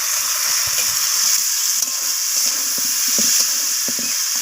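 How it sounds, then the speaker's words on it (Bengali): Green peas frying in a pan together with tomatoes and other vegetables for a vegetable dal, giving a steady close sizzle with soft stirring clicks throughout, no talking. "তো মটরশুঁটিটা দিয়েও আমি আবারও ভাজা ভাজা করে নিচ্ছি সব কিছুর সাথে।"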